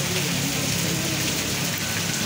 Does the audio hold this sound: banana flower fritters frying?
no